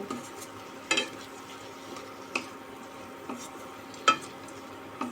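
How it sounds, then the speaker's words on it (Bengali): A spatula scrapes and stirs through greens frying with fried lentil dumplings in a hot pan, with a soft sizzle underneath and a few sharper clinks against the metal. "মিনিট খানেকের মতো একটু নেড়ে নেব"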